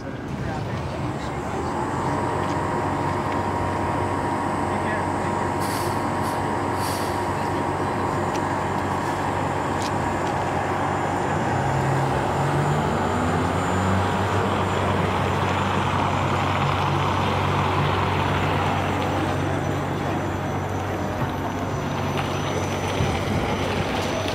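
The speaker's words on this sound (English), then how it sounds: "I'll just show you how quiet this truck is." A Peterbilt 579 truck runs nearby with a low, steady drone and faint hum, fairly quiet and unchanging for over twenty seconds, with a brief higher whine partway through and no speech heard.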